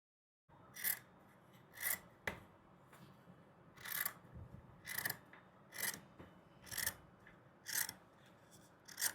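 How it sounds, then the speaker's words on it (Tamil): Scissors snipping notches into blouse fabric where lining, main cloth and piping cloth are stitched together, about nine crisp separate cuts in a steady rhythm, close and fairly quiet, with no talk. "எல்லா பின்னையும் எடுத்துட்டு உள்ளே இந்த நாச்சஸ் கட் பண்ண போகிறோம்"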